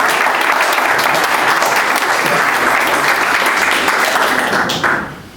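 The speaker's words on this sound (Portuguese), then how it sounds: "Vamos receber o nome de Deus com as palmas mais fortes para o Senhor Jesus" A church congregation claps loudly and steadily through a worship service at Igreja Jerusalém das Missões, dense applause filling the room for about five seconds before it cuts off abruptly near the end.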